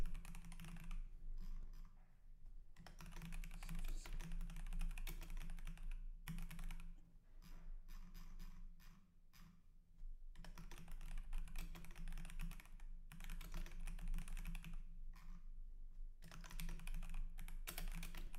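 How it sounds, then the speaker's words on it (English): Fast, continuous typing on a computer keyboard, close and steady, with clattering keystrokes in bursts separated by brief pauses, no voices. "I'm typing on the left, by the way."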